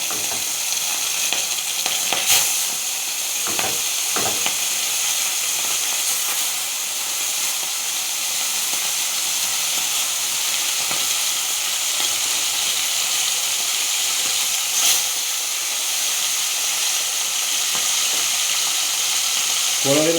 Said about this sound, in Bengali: মাছ ফ্রাই করি না এইভাবে আজকে প্রথম দেখা যাক কী হয়